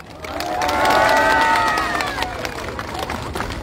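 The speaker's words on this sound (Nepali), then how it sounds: "ताली बजाउनु पर्छ अलिकति" Crowd at an outdoor political rally in Damak, Jhapa, Nepal, clapping and cheering loudly, swelling in the first second and a half and then tapering into a continuing murmur of applause and chatter.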